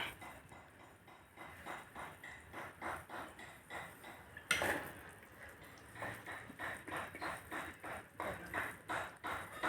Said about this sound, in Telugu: ఇప్పుడు రైస్ వేస్తున్నానండి.